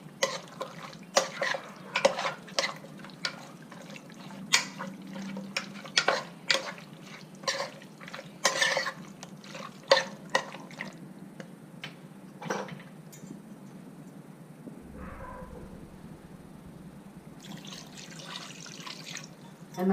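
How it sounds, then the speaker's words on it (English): Water goes into a pot of mutton biryani stock amid irregular splashes, drips and clinks of a pot nearby, then thins to a few faint sounds and a brief low rumble near the end. "I'm adding 2 cups of water to this for the stock."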